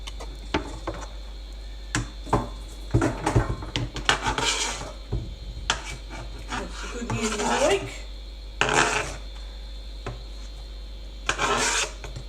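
Knife chopping vegetables on a chopping board, heard as irregular knocks and clusters of taps with scraping and rustling between them, fairly close, alongside occasional clatter and a low steady hum.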